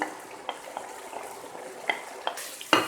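Beef mince with crushed coriander, cumin, green chilli and ginger being fried and stirred for bhuna qeema with potatoes, a soft continuous sizzle broken by several sharp spoon-on-pot scrapes and clinks.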